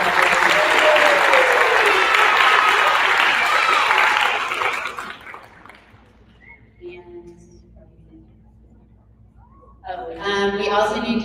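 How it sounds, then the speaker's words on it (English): Applause from a school awards assembly audience fills the first five seconds loudly, then fades to quiet with scattered voices before a brief second burst of clapping near the end. "Let's give them a round of applause."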